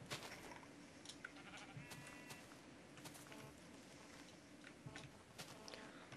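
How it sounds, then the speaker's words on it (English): Sheep in the Minecraft game, modded with Tekkit, bleat several times in short calls scattered across a quiet background, alongside soft footstep and click sounds. "Oh, look, there's lots of sheep around."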